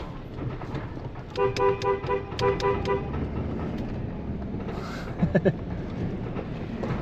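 Two short car horn honks sound in quick succession over a low idling engine rumble, followed by faint clicks.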